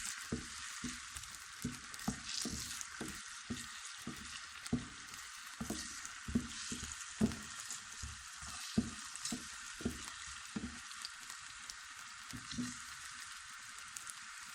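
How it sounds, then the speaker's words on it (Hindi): Potatoes fry in a pan under a constant bright sizzle. Steady rhythmic scraping strokes of a stirring spoon run throughout, close and clear. "अब इनको फ्राई करते हैं। आलू हमने इसलिए पहले डाले हैं क्योंकि आलू सख्त होते हैं।"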